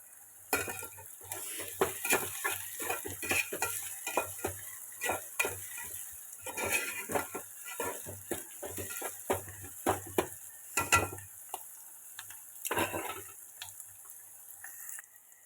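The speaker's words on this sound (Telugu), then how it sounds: "రెండు ఉల్లిపాయలు వేసానండి వేపుతాను" Two onions frying in a pan, heard as a constant low sizzle under busy, irregular clinks and scrapes of a utensil stirring against the metal, close by, with no one talking.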